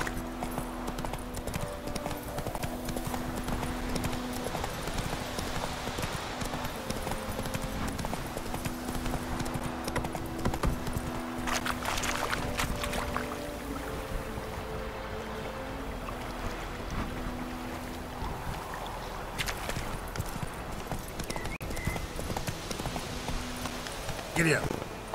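Horse hooves clip-clopping at a steady trot in The Witcher video game, continuous and fairly soft beneath wind and someone talking, with a few louder bursts along the way.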